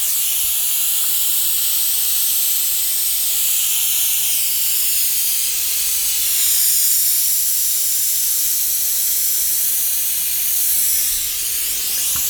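Compressed air hisses steadily out of a leaking Snowpeak M25 PCP air rifle as its fitting is loosened, a loud, continuous close-up rush with slight wavering in strength throughout.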